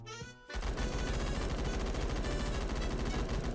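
An MG36 light machine gun fires through a wall in a first-person shooter, a sustained loud burst of rapid automatic gunfire that begins after a short quiet lead-in and runs unbroken to the end.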